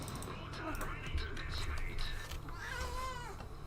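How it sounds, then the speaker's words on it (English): A cat meows with wavering, rising-and-falling calls, clearest near the end, over a busy background of game audio and speech. "I have a cat."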